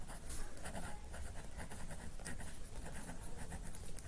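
Steady pen-on-paper scratching fills the whole stretch as a math definition is written out by hand, faint and close, with no talk.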